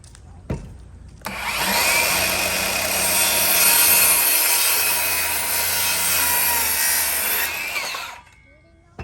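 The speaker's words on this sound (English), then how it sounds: "we're gonna go ahead and cut these down where they are 48 inches as well" Wooden 2x4 boards being cut down to 48 inches with a power saw, a loud continuous whine lasting about seven seconds after a brief knock, then stopping, with no voices.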